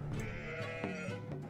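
Sheep in the medieval strategy game Becastled bleat in a close, steady overlapping chorus, several wavering cries running together without pause.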